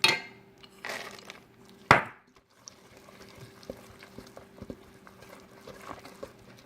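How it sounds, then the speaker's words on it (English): Chopped walnuts tipped into nutcake batter, a couple of brief rattling clatters near the start followed by quieter scattered ticks and soft kitchen noise, close by with no talk. "Now the next thing I'm adding in are my nuts."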